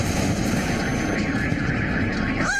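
A Chinook helicopter lands in a steady, close, loud rotor and engine roar that holds evenly throughout, with no voices.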